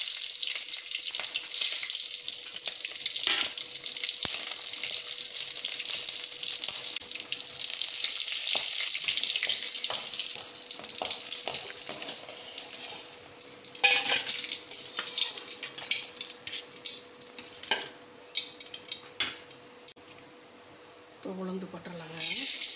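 Dried chillies sizzle and crackle in hot oil in a pan for ridge gourd chutney, a steady bright frying hiss that thins into scattered pops, with someone speaking briefly near the end.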